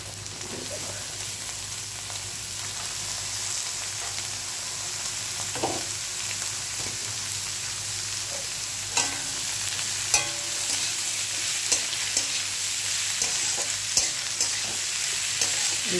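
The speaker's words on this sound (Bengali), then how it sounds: "এইভাবে সুন্দর করে একটু ভাজা করব।" Pumpkin, bottle gourd and potatoes fry in a pan with already-browned onions, giving a steady close sizzle broken by occasional scraping stirs and clicks.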